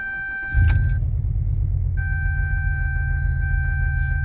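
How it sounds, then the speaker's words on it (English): A car engine idling roughly as if running on only a couple of cylinders, a close, loud low-pitched rumble with uneven pulsing, starting abruptly, while a steady chime-like warning tone sounds over it. "It's like it's running only on a couple of cylinders."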